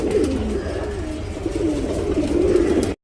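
A white copper-coloured male tournament pigeon coos in soft, rolling, repeated calls, close by and steady, with no talk over it.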